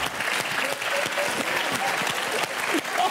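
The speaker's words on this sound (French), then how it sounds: "on applaudit très fort" Audience applause fills the whole stretch, dense and steady clapping from a sizeable crowd with no pause.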